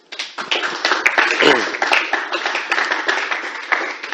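Audience at an international women's rights conference clapping loudly and continuously, dense close applause with scattered sharp hand claps throughout.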